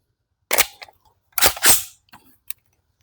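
A Davinci DG-9 airsoft pistol fires several sharp, close cracks: one shot, a pause, then two quick shots in succession and a last faint pop.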